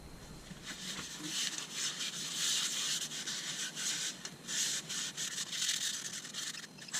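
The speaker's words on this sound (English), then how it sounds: "Time for a bit of sanding." Rapid scratchy rubbing strokes of sandpaper against a wooden maple bowl, close and continuous with a quick uneven rhythm.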